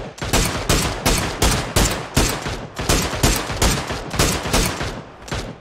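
Rapid gunfire in the battle royale game PUBG, a loud, dense string of repeated shots in evenly spaced bursts lasting several seconds, close and with no talking.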